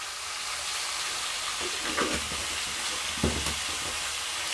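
Whole green chillies with turmeric, cumin powder and sugar fry in a kadai with a steady close sizzle, broken by a few soft scraping stirs.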